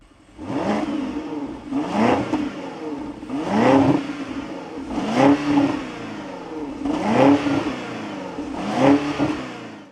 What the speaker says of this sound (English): I'm driving the 2024 BMW X7 M60i. Listen to this engine.